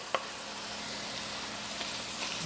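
Chopped Turkish eggplant sizzles in a pan, a steady, fairly quiet frying hiss with a few faint clicks and pops from the cookware, no voices over it.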